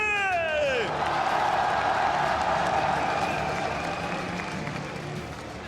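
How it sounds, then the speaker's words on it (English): Sustained applause and crowd noise from a large esports arena audience at a 2018 League of Legends Mid-Season Invitational semifinal, greeting team RNG, steady and broad throughout after a brief musical sweep at the start. "une fois de plus, applaudissons tous ensemble les RNG"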